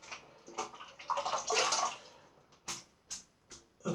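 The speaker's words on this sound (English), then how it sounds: "I'll give that a quick rinse so I can show you what it looks like." Rinsing soap out of an Alexander Simpson T3 synthetic shaving brush under running water: a swelling rush of splashing and pouring, then several short separate splashes and drips as the brush is shaken, close and fairly loud with no talk.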